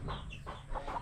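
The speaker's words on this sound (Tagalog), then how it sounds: "may kambal kami na manok dito dahil" Chickens on a rural farm cluck close by in a few short, quick calls, with soft background noise.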